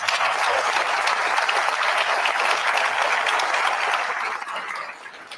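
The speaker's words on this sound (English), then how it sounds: "Let's have another round of applause." An audience at a funding announcement event gives sustained, even applause, a dense wash of many clapping hands at close range that holds steady for about four seconds before tapering off.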